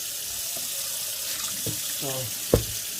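Hands wash sticky rice in water, a constant running-water hiss from a sink, with a few sloshes and splashes and a sharp knock near the end.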